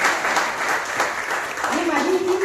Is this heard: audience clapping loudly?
yes